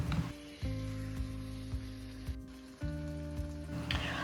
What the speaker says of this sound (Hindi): चिकन डालने के बाद इसको हमने अब इस तरीके से भूनना शुरू कर देना है